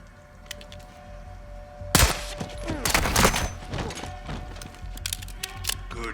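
Gunfire in a Modern Warfare 2 remake erupts into a dense burst of rapid shots after a quiet lead-in, loud and close, then trails off into scattered cracks and mechanical clatter.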